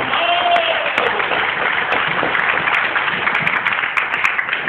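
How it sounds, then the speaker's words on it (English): An audience at a conference session claps for a rap performer, a steady burst of applause lasting several seconds, moderately loud and filling the room. "let's get a giant round of applause to Lyrical MC, also here in Goldman"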